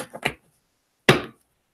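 A deck of cards is shuffled up close in two brief, crisp riffling bursts separated by a short pause, with quiet in between.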